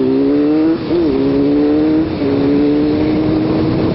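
Motorcycle engine on a street ride, droning steadily with harmonic tones, then dropping pitch through downshifts about one and two seconds in while a car follows behind; loud and close, with no talk.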